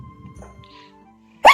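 A single sharp sneeze bursts out near the end, loud and close, after a stretch of faint low murmuring.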